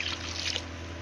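Water pours steadily into a pan for a homemade fish curry, a soft continuous trickle and splash heard close and fairly quiet for about a second with no talking.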